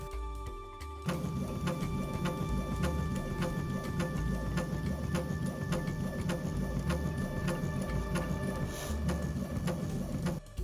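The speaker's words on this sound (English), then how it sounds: "The printer was kind of loud, but that steady mechanical rhythm gave the whole thing this analog feel" A 3D printer converted to draw with a pen as an art plotter runs with a loud, steady mechanical whir and a fast regular ticking pulse that starts abruptly and holds an even level throughout.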